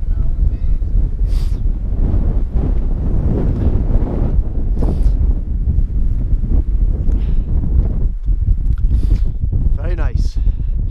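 Strong, constant wind buffeting the microphone on an exposed mountain summit at 676 m in the Howgill Fells, a loud roaring rumble throughout with gusts and a voice speaking through it.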